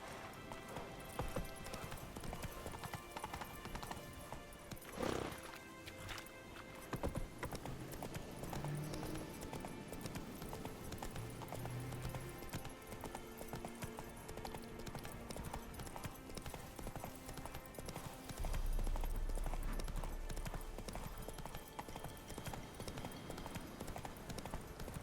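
Roach, the horse in The Witcher 3, clip-clops along in steady repeated hoofbeats close by for the whole stretch, with a snort or whinny and scattered game effects over the rhythm.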